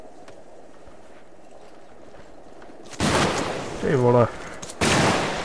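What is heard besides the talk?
gunfire in the video game Arma 3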